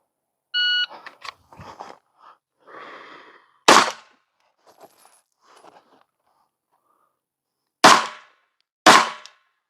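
Handgun shots fired from behind cover in a kneeling position on a shooting stage, three sharp, loud reports spaced apart, preceded by a start beep and light shuffling.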